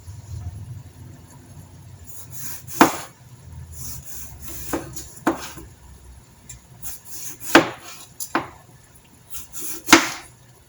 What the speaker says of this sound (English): now we're going to cut some tomato for it